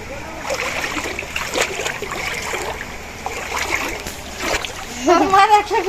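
Floodwater in Agartala, Tripura, splashes and churns continuously nearby, with a voice talking over the water throughout.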